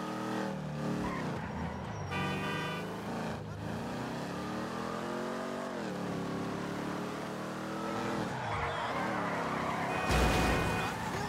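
A Ferrari sports car engine in the Grand Theft Auto V video game, droning and revving continuously with rising and falling pitch as it drives, loud and close with a brief burst near the end.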